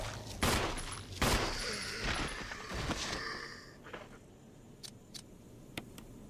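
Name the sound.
gunshots from video game Resident Evil Remake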